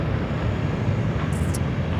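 A Cathay Pacific airliner departs Sydney Airport with a loud, steady jet engine roar heard from a distance. A brief faint higher tone rises over it partway through.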